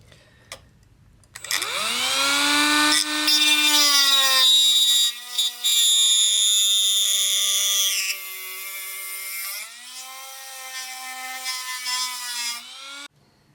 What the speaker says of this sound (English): Now I'm just going to use my Dremel.